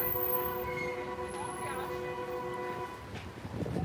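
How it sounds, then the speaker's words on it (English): Subway train at the 18th Avenue station in Brooklyn gives a faint, steady humming drone with tonal whine that fades out toward the end, under quiet background sounds. "This is the 18th Avenue subway station."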